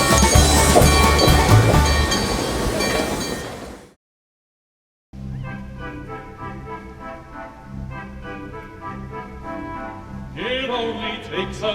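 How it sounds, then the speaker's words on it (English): A train being pushed by the same locomotive that carried visitors to the 1915 Pan-Pacific Exposition rolls along with a steady rumble and rail clatter, interrupted by a brief gap of silence before resuming. "we're being pushed by the same locomotive that took people to the Pan-Pacific Exposition in 1915"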